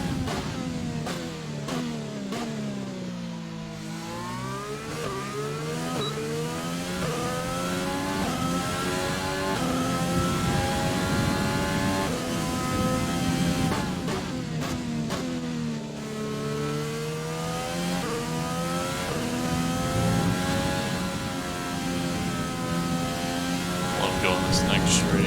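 An F1 race car engine at the Bahrain Grand Prix in a racing game, a loud, high-pitched whine repeatedly climbing through the revs and dropping on downshifts, continuous across the lap.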